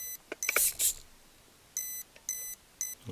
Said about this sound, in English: It's supposed to beep 3